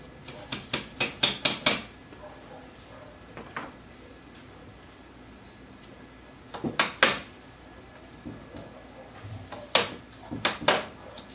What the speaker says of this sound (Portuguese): Depois só colocar uns preguinhos